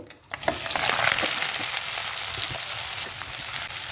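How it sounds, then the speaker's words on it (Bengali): Giant freshwater prawns dropped into hot mustard oil burst into a loud, close sizzle that holds steady and dense, with faint clinks of a utensil underneath. "চুলায় তেলটা গরম করে নিয়েছি এখন দিয়ে দিচ্ছি চিংড়ি মাছগুলো"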